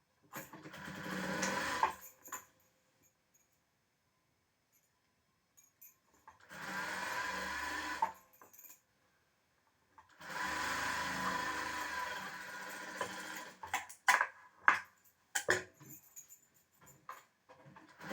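A sewing machine stitches a blouse in three separate runs of a few seconds each with quiet gaps between, followed by clicks and handling noises, close and moderate in level.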